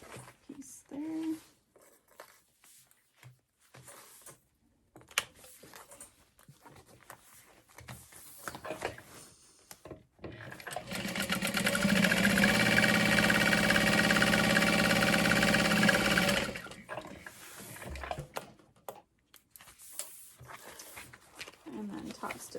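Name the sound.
sewing machine top stitching a tote bag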